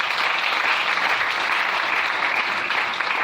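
A church congregation claps steadily and continuously, a dense even wash of applause from a large group with no voices standing out above it.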